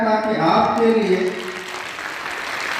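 Applause from a seated audience at an award ceremony in a small university auditorium, rising under a voice and continuing as a broad wash of clapping once he stops.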